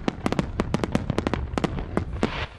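Fireworks go off around Billings, Montana, around the Fourth of July: a rapid, irregular string of sharp crackling pops, fairly close and loud, in a dense burst that thins out after about two seconds.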